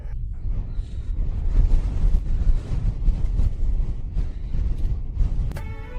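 Strong wind in snowy mountains buffeting a microphone, a loud continuous low roar with gusts and no talk.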